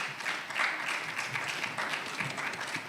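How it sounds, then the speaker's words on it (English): At an architects' annual general meeting, an audience gives a moderate, steady round of applause for a speaker who has just finished, the clapping somewhat distant and even. "Another round of applause for her."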